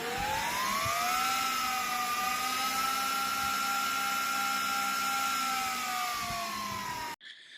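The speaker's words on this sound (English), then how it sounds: "go buy physical switches and routers that cost hundreds of dollars sometimes and take up space in your room and sound like a jet engine" Physical network switches and routers whir loudly with cooling fans, a steady tonal hum that ramps up in pitch and then holds, close and continuous like a small jet engine, alone without voices before cutting off abruptly.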